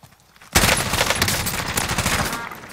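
Sudden burst of rapid gunfire erupts after a moment of quiet, a loud continuous volley of shots lasting about two seconds.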